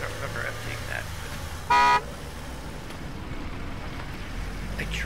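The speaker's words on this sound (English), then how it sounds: "I tried to turn off the honk" Car horn in the recycling-center video game My Recycling Center, a single short loud honk of about a quarter second standing out over quiet background hum.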